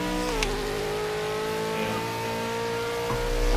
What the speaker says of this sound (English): I keep it about 5k, build up the revs and then slowly push it after 5